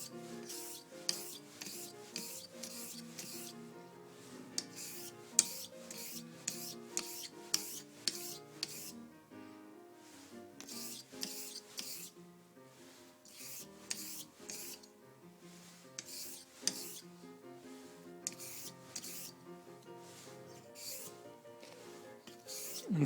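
A Japanese razor is drawn in one-directional strokes across a Nakayama #251 natural sharpening stone, making a quiet, rhythmic series of soft scraping rubs that repeat steadily with short pauses between them.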